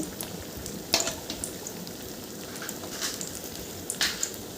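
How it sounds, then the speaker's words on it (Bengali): Banana flower koftas dipped in gram flour batter frying in oil: a soft, steady sizzle close by with a few brief crackles and pops, and no voices. "একটু মোটা মোটাভাবে তৈরি করে বেসনে ডুবিয়ে আমি ভেজেছি। এই দেখুন, ভাজা হচ্ছে।"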